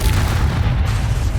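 A fiery Confringo spell blast in the video game Hogwarts Legacy, a loud, deep rumbling boom filling the short moment with no talking.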